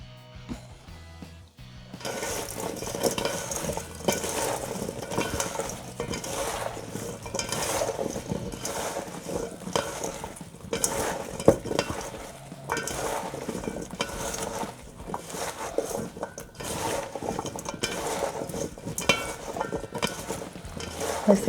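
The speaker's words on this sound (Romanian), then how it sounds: "Amestecăm întâi așa un pic, după care adăugăm și carnea și mai amestecăm." Meat being stirred into oil with chili flakes in a pan for a simple oven tray dish, with continuous close scraping and soft sizzling throughout, steady and fairly loud, with no voices.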